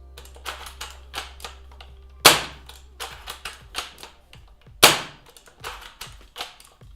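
Airsoft sniper rifle bolt cycled repeatedly to reload, with a 170 spring fitted, producing a run of sharp mechanical clicks and clacks and two louder snapping strokes, close and alone.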